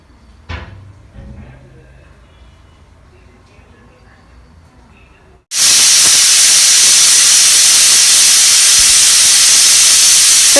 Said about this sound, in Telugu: ఇక్కడ నా పప్పు ఉడుకుతుంది.